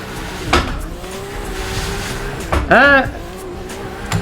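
A car in the Assetto Corsa racing game is drifted with the handbrake through a tight turn, with engine revs rising and falling and a sharp burst of tire screech, while someone talks over it.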